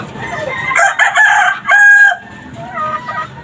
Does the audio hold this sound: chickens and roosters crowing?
yes